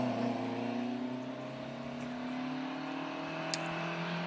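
Ford Cortinas and a Datsun 1600 race at the Leyburn Sprints, their engines giving layered, tonal revving that shifts pitch gradually as they accelerate at a moderate distance, with a faint sharp click partway through.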